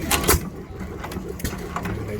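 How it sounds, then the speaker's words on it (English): A vintage stationary engine with a governor runs at an outdoor vintage vehicle event in Scotland, giving a loud, close, continuous mechanical clatter with rapid rhythmic exhaust pops and a voice faintly over it. "And the exhaust, so it makes that popping sound."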